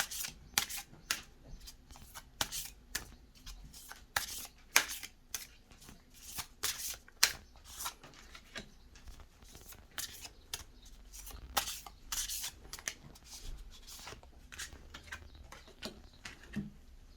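Cosmic Guidance Oracle cards are shuffled over and over, giving quick papery riffles and soft flicks in an irregular rhythm that stays up close and fairly quiet, with no voices.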